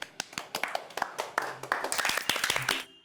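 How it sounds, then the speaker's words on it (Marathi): Irregular hand clapping builds into scattered applause from a small group on a Marathi TV drama set, sharp individual claps at first and then denser, with faint voices under it. "अरे टाळ्या."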